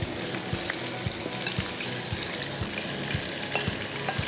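Pasta frying in hot oil over a high flame, a dense continuous sizzle broken by regular soft knocks and scrapes as it is stirred, no talking.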